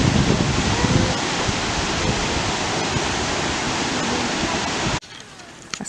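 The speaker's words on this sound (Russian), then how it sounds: "This is the Letchworth Park waterfalls." The Letchworth Park waterfalls roar as a steady, loud broadband rush of falling water for about five seconds before cutting abruptly to near quiet.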